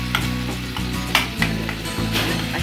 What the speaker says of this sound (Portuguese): Minha mãe está fazendo um molho para temperar o macarrão.